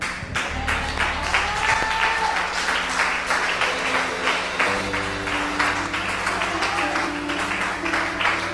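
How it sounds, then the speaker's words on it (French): A church congregation applauding together in steady, dense clapping with a low hum beneath, sustained throughout. "Une belle main d'acclamation, Seigneur Jésus, pour sa parole"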